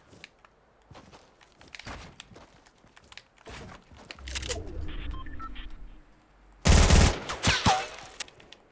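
Gunfire in Fortnite Battle Royale, with scattered sharp shots and clicks early on, then a loud burst of close firing near the end amid other game noise.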